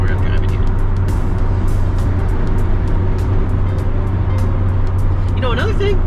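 A 1998 BMW Z3 roadster drives on a winter road, its engine and tyre noise a steady loud drone throughout, with a voice talking intermittently over it.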